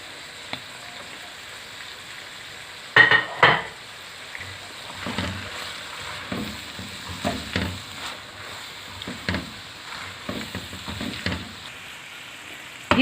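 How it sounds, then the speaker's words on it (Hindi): Beef mince and mushrooms fry in a pan, with soft sizzling and scattered stirring clatters and a few louder knocks, steady and close with no talking. "जी, कीमा और मशरूम्स अच्छी तरह से भून चुके हैं।"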